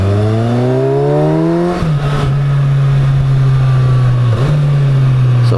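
A Kawasaki Versys 1000 motorcycle engine under way, a loud, steady close drone that climbs in pitch through the gears with two brief shift dips, alone without voices.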